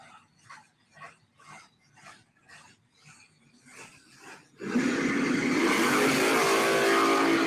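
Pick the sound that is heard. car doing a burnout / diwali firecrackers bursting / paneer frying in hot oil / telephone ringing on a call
car doing a burnout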